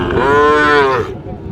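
A Sahiwal bull calf at a cattle market gives one loud, clear moo lasting about a second, followed by quieter market background.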